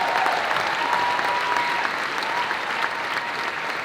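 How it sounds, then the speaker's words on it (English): A full room at an association event breaks into a round of applause for a newly named vice president, sustained and loud for about four seconds, with faint voices mixed under the clapping. "a round of applause for Tracy as our Vice President of Advocacy this year"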